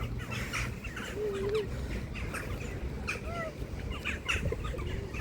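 Crows and other birds call outdoors over a steady background hum, with a few short squawks and chirps scattered throughout; no voices.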